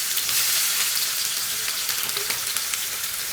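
Two medium chopped onions sizzling in hot oil with mustard seeds in a pan, the base for a fish curry: a loud, steady, close hiss of frying that holds throughout, with no speech.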